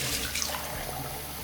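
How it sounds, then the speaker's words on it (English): Water poured from a pint glass, about a third of a pint, straight into the middle of moss around bulbs: a steady, soft, splashy trickle that runs evenly throughout. "I'm going to add a very, very small amount of water to the bottom"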